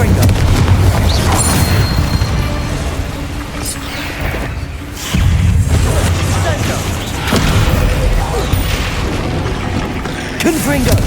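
Blasting-spell explosions in Hogwarts Legacy boom heavily at close range, with a dense rumbling barrage and several deep impacts, one sharp blast near the middle, over a busy game soundscape with voices mixed in.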